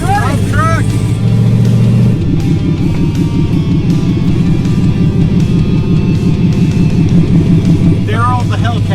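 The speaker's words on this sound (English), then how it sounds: "All right, Bojack, fire it up. That's nasty. Shop truck's ready." A shop truck with a Gen 5 engine swap starts and revs, its steady throbbing idle and rising revs running loud and close for several seconds, with brief voices at the start and end.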